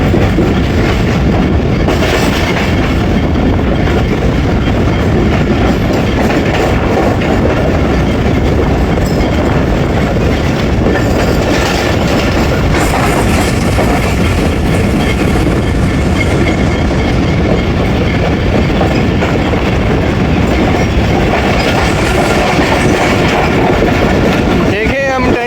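Passenger train running on rails in Pakistan, a steady loud rolling rumble with clickety-clack from the wheels throughout, heard from inside the carriage with faint voices under it.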